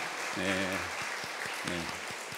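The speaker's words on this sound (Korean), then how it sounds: "우리 박수로 환영하겠습니다" A church congregation at a Sunday morning service claps to welcome a visiting family, a soft, continuous patter of hands beneath a voice speaking in two short phrases.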